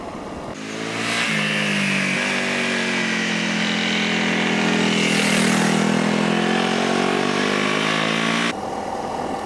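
Honda CRF250 Rally motorcycle ridden on a mountain pass road, its single-cylinder engine droning loud and steady with rising and shifting revs and strong wind rush, up close throughout.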